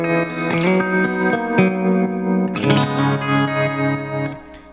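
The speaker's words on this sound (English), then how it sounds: "let's kick on the reverb" A synthesizer plays sustained chords through a reverb effect with an LFO adding movement, the mix set around halfway and decay at noon; notes swell and ring out with washy tails, fairly loud with no voice.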